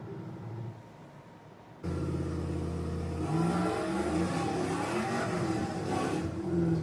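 A car fitted with an LS engine and a torque converter launching for high wheel speed, its engine jumping from idle into a loud sustained rev that climbs for several seconds, close and with no talk.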